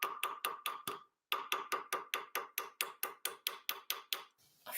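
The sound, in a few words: hammering metal flat with a hammer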